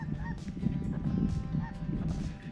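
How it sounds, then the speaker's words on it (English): Wild geese honking during a sandhill crane hunt in South Texas, a chorus of overlapping nasal calls from a flock at moderate distance, repeated in quick irregular bursts. "And your geese, guys."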